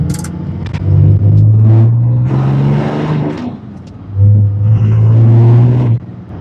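A Ram 3500 pickup from the 2003–2014 generation, just fitted with a new track bar and sway bar, is driven. Its engine gives a loud, close, low rumble that swells twice as it accelerates.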